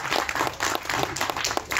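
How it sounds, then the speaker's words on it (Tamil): Audience applause filling a hall at a Tamil movie audio launch event, dense steady clapping from a crowd throughout, fairly loud and close, with faint voices mixed in. "ஒரு அரங்கம் நிறைந்த கைத்தட்டல் இந்த தருணத்தில் நம்ம கொடுக்குறோம்"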